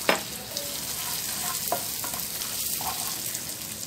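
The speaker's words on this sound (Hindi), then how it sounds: "अब इसमें 2 टीस्पून भर के बटर डालेंगे" Butter melting and sizzling in a hot pan with dissolved sugar for homemade butterscotch, a continuous close hiss with a few soft clicks and scrapes of stirring, no voices.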